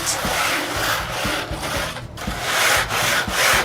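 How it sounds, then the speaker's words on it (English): A screw-studded wooden scrub board scratches across blocks of ice to flatten them, a loud, continuous rasping scrape in repeated back-and-forth strokes with a short pause partway through. "I'll grab my scrub board, a board with a bunch of screws in it, and then I'll just scratch these flat"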